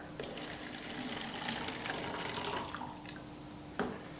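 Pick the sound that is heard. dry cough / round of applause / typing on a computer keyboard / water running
water running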